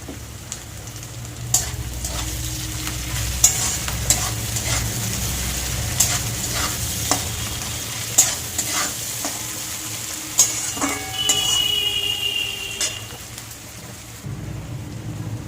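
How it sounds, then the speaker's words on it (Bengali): Onion sizzles and fries in a pan for a Bengali dried fish and water lily stem dish, giving a continuous close crackling hiss with scattered pops and a few stirring scrapes. "পেঁয়াজটা একটু ভেজে নেব"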